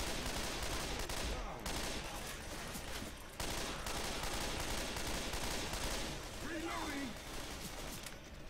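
Rapid bursts of gunfire from Left 4 Dead 2 dominate the scene, dense and continuous throughout with brief gaps, loud and close against the game's background din.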